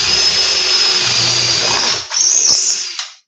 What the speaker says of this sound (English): When it's really powerful, you can let the drill do the work.